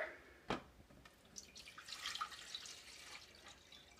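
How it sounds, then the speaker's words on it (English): Water being added to a cooking pot sounds as one sharp splash and then a soft, uneven trickle and splatter, close by and faint, with no talking. "first things first, we're going to add the water"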